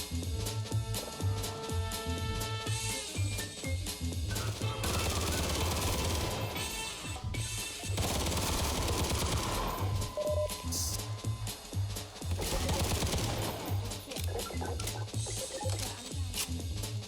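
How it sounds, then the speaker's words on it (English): Fireworks and gunfire crackle in a World War trench-combat video game: dense bursts of pops, bangs and rapid reports come in waves over a steady low engine drone, loud and close. "I'm gonna set up the fireworks and hold my ground."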